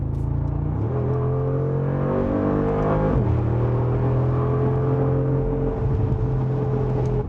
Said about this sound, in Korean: 무엇보다 이 AMG 모델은 박진감 넘치는 소리를 들려줍니다